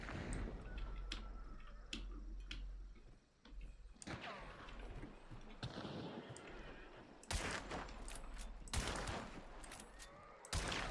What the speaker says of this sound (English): I'm shooting that flaming barrel as a distraction.